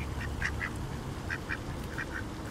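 Ducks quack in short, faint bursts while being given a treat, several calls spaced irregularly over a low background murmur.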